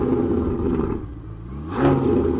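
A loud, rough car engine in a video game rumbles and revs, dipping briefly before surging again, with no talk over it.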